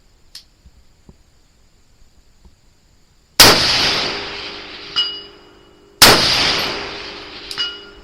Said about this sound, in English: And we'll do 2 shots each on everything.